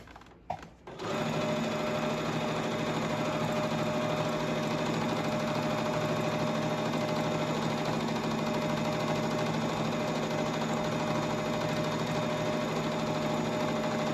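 A sewing machine runs nonstop, stitching a double seam on a crash bag; a brief start-up follows a short pause, then a steady close whirring mechanical hum continues without talk.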